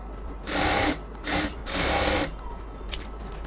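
A sewing machine stitches pant salwar fabric in three short, loud bursts of rapid whirring, separated by pauses in which it stops. A small click follows.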